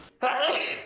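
A single loud, close sneeze bursts out right after a short sharp inhale, brief and forceful, then fades.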